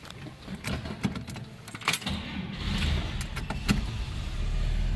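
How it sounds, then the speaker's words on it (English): A 1956 Chevrolet 210 two-door post sedan starts after a few seconds of clicks and jangling keys. It then settles into a steady, smooth low idle rumble that carries through to the end. "We'll go ahead and fire it up so you can hear it run also."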